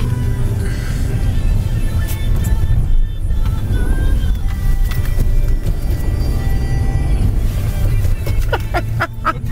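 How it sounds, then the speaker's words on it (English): A car driven and drifted on winter snow, its engine a steady, loud low rumble heard from inside throughout, with a few sharper scrapes and clicks near the end. "I like driving in the winter because you can drift a lot"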